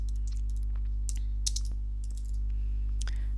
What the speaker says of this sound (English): One way is to type in a location.